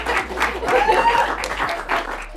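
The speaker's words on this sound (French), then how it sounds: "Et on peut applaudir Laurine, c'est 2 points sur" Audience applause for a contestant at a French game show, a short burst of clapping mixed with voices talking over it.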